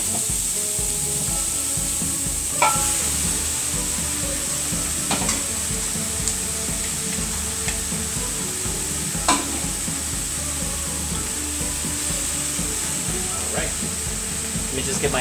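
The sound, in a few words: cubed roast turkey sizzling with garlic and onion, stirred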